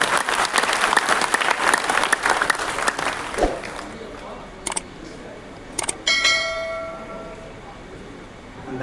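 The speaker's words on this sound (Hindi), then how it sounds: "एक बार जोरदार ताली बजाकर भाई BL पारस की बात करें" Loud, dense audience applause at a Buddhist delegates' conference in Delhi fills the first few seconds, then fades out, leaving a few sharp knocks and a faint ringing tone near the end.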